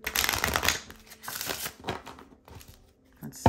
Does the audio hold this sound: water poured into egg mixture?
no